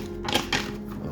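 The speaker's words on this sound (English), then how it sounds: "Let's do another shuffle just for the heck of it." A deck of slightly bent tarot cards is shuffled by hand, giving two quick, close papery riffle bursts over a low steady background hum.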